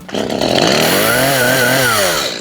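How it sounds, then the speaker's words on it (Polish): A power saw cutting wood for a chicken run: a loud, close, steady motor whine that revs up quickly and holds, rising slightly in pitch before easing off at the end, with no talk. "Dobra, odpalamy sobie piłę."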